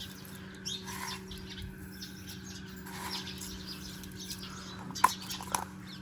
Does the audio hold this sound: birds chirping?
yes